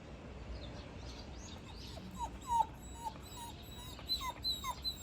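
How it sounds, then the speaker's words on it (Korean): A Border Collie gives faint, high whining yips and whimpers in a short irregular series, heard at a distance over a quiet background hum. "구리가 너무 짖어서 한 바퀴 돌고 오겠습니다"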